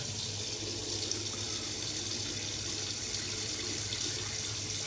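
A tap runs steadily into a sink during a wet shave with an aluminum safety razor, a constant close rushing and splashing of water that fills the whole stretch with no talking.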